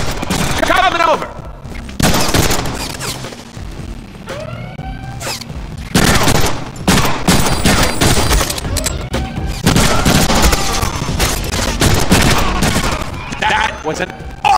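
Dense, loud gunfire and booming blasts from the Deadpool video game fill the stretch, with bursts and single shots overlapping under steady game sound effects.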